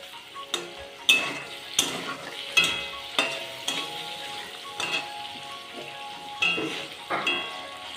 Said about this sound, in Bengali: আমি পনিরটাকে ভালো করে নাড়িয়ে চাড়িয়ে লাল লাল করে ভেজে নিচ্ছি।